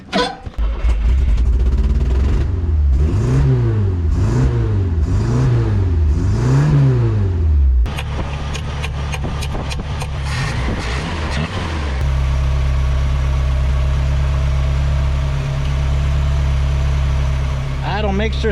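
Carbureted engine of an old U-Haul truck running loud and close, its rough, surging rhythm settling into a steadier low idle with a faint scrape near the end.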